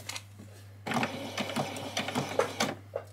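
A sewing machine sews a back stitch on a doll's dress, with short bursts of stitching and clicks in a stop-start rhythm, fairly faint and close, over a low steady hum.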